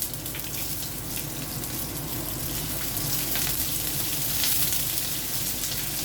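Green chilies, ripe and unripe, sizzling in a pan for tempered flattened rice, a continuous close frying crackle with faint scattered clicks and no voice.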